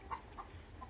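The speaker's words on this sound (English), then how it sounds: "if you can hear me over that chicken" A chicken gives a few soft, quick clucks, faint and somewhat distant, near an Omlet Eglu Go Up coop being assembled.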